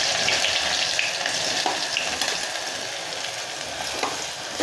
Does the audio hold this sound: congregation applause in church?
no